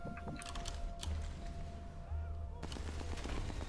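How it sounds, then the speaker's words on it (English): A flare gun fired toward a tank in a video game: a couple of sharp pops and clicks early on, then a louder burst of shot-like cracks and rattling, with a steady low rumble of game audio underneath. "flare gun doesn't shoot straight"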